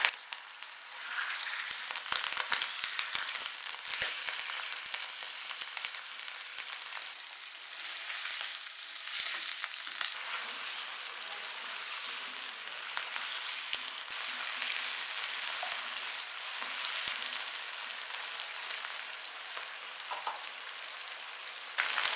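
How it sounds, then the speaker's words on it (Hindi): Chicken pieces frying in oil in a kadai give a steady, fairly quiet sizzle with soft crackles, running unbroken with no talk. "अब कढ़ाई में डालेंगे ऑयल और चिकन को लाइट गोल्डन होने तक फ्राई करेंगे"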